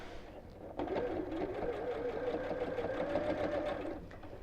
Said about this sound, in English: I'm going to top stitch all the way around the edge